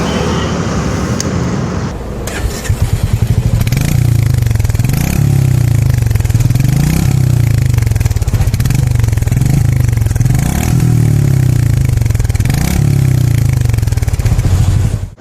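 A Royal Enfield Meteor 350 motorcycle's exhaust booms with a deep, bassy thump, revved in a regular series of rising and falling pulses, loud and close with no talk over it.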